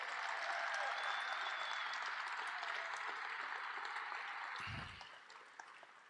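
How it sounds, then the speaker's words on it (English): A steady wash of audience applause at a student athletics stole ceremony, dense and sustained for several seconds before tapering off and growing quieter near the end. "in a heartfelt, warm round of applause, please give it up for Zoe Esslinger"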